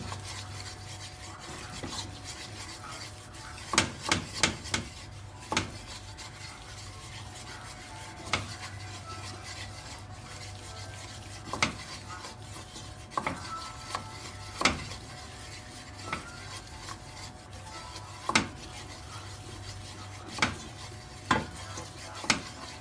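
Flour is stirred in a pan to make a white cheese sauce for pasta, with repeated sharp scraping and tapping strokes of the utensil over a faint, steady sizzle.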